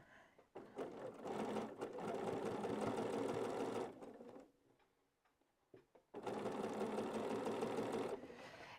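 A sewing machine stitches patches in two fast, steady bursts of rapid mechanical whirring, separated by a brief near-silent pause, close and clear.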